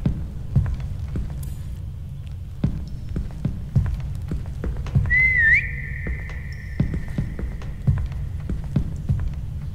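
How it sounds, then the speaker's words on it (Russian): Whistling in the Lidar horror survival game The Voidness: one clear rising whistle midway, then a long steady held tone, over a low throbbing hum and soft regular thumps like footsteps. "Свист, свист, свист."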